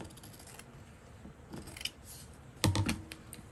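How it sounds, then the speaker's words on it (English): Scissors snip through paper while a book cover is prepared, giving a few faint, short crisp cuts with one firmer snip near the end, heard close over a quiet room. "I'm going to cut right along here."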